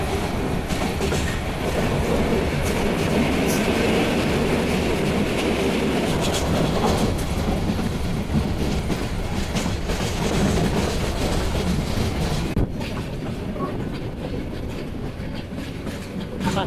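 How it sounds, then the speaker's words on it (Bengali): The Mohanagar Express, a metre-gauge train, rumbles steadily along the rails in Bangladesh, loud and close, with a continuous rolling roar and faint clattering from the wheels throughout. "মহানগর এক্সপ্রেস সুপাস করে চলে যাচ্ছে শ্রীনিধি রেলওয়ে স্টেশন"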